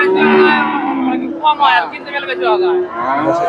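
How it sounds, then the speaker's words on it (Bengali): Bulls low and moo nearby at Chandaikona cattle market in Bangladesh while people talk and murmur in a crowded, lively setting. "এই যে সার গরুগুলা দেখি"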